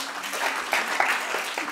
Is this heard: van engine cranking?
no